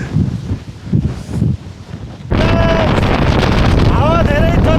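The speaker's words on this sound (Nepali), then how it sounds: "हावा धेरै चलेकोले यो टुप्पो धरि हामी जान सकेको छैन।" Strong wind roars across Mam Tor peak on a snowy day, buffeting the microphone in uneven gusts at first, then surging into a loud, constant rush with faint whistling tones.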